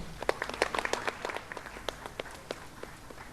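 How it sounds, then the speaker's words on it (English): Sparse, scattered clapping from a small audience at a careers seminar, individual claps standing out unevenly and growing fainter, with no one speaking. "Have a huge round of applause for her."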